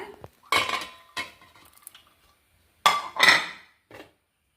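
Sliced onions drop into a bowl in a few short clattering bursts with light clinks of a utensil against the dish. Near, with brief silent gaps between the tumbles.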